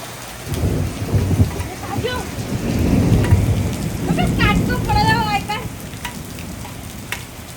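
A heavy rumble of thunder rolls beneath steady rain pattering on a surface at night, with a couple of voices talking briefly in the background.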